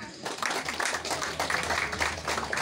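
An audience claps at a community charity gathering for orphans, the applause dense and steady for a few seconds at moderate distance, with a faint murmur of voices underneath.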